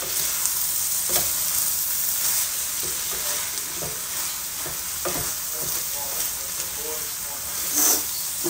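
Ground beef sizzles in hot oil in a pan, a steady bright hiss with occasional crackles and stirring scrapes throughout.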